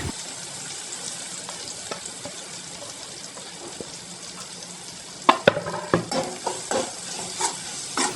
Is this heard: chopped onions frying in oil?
yes